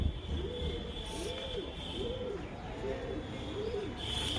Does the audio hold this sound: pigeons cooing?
yes